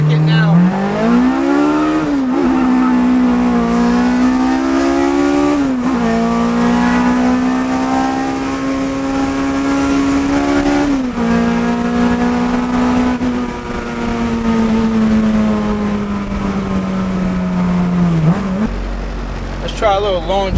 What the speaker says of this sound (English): I'll step on it a little bit, and you can just see the acceleration.